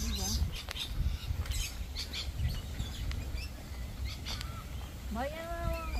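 Birds squawk and chirp in a garden, giving short scattered calls and a clearer rising call near the end, heard under voices talking and a busy outdoor background.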